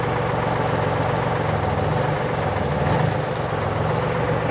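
A 12V71 Detroit Diesel engine in a 1973 Peterbilt 352 cabover truck runs with a loud, steady, low rumble, idling close by with no talk over it.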